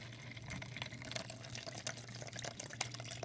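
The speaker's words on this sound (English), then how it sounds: "So you're going to fill the container with water to right here" Water running from a tap into a small container for an ice cream making kit, a steady close hiss and splash with faint drips, heard alone.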